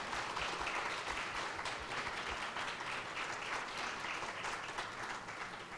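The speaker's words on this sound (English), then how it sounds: "we applaud your strength and your bravery, Garry Davis, and we are so thankful for you" Audience applause following a talk at a symposium session, a steady dense wash of clapping that holds evenly throughout at a fairly faint, distant level with no voices over it.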